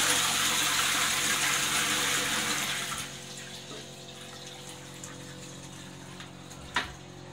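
A low-level VitrA toilet in a Nottingham pub flushes with a loud rushing gush of water that eases after a few seconds into a quieter refill trickle and hiss, no talk.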